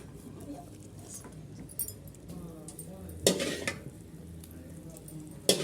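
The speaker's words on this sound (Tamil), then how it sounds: "எண்ணெயை நமக்கு எவ்வளோ வேணுமோ அப்போ மிக்ஸ் பண்ணி மிக்ஸ் பண்ணி கலக்கிக்கோங்க" Gram flour Mysore pak mixture is stirred with oil in a pot, giving a soft bubbling sizzle with scraping strokes and two sharp metallic clinks of a ladle against the vessel.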